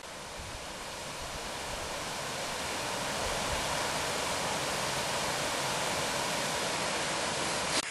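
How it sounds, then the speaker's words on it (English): A small waterfall, about five feet high, on a stream in Teesdale gives a steady, broad rushing roar that swells slightly over eight seconds, heard alone and continuous at moderate distance. "And there's a waterfall of about, what, 5 feet there."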